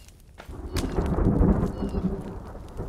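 Rain falls in the survival game The Forest, a steady hissing wash that swells and then holds, with faint talk over it.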